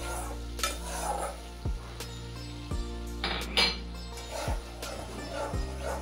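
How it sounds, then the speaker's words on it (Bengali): Rinse water from a spice bowl goes into a hot pan of frying masala for a Bengali rui fish curry, sizzling steadily under repeated metal clinks and scrapes of stirring, close and fairly quiet with no talk. "তো তার জন্য আমি মশলা ধোয়া বাটিটা একটু জল দিয়ে দিলাম।"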